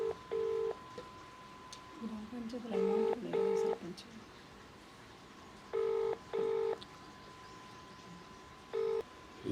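A phone is being dialed during a public street talk. Short, clear keypad tones sound in separate beeps and quick pairs, with faint background voices around them.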